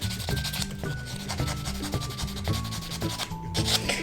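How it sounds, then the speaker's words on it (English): A nail buffer rubs back and forth across fingernails while doing at-home dip nails, giving close, steady sanding strokes in a repeating rhythm with no talk. "So then I'm gonna take my buffer and I'm just going to buff all of my nails"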